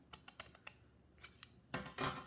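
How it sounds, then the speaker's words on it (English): Scissors make a series of faint, quiet snips and clicks as they cut folded paper to make paper flowers, with a slightly louder cluster of cuts at the end. "you're going to cut down that line right there"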